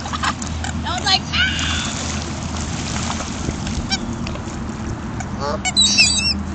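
Geese and ducks crowd a lake shore while being fed, with scattered honks and quacks rising over a constant murmur of outdoor noise, some calls close and loud near the end.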